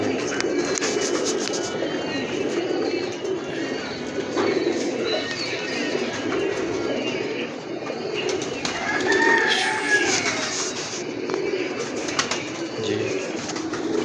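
A pair of teddy pigeons coo in soft, low rolling calls against a busy outdoor background, with occasional scratchy sounds and faint chirps over the stretch.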